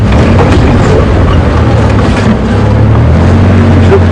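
A safari vehicle engine rumbles loud and close while reversing in the wrong gear at Djuma Game Reserve, a steady low drone with wind and outdoor noise.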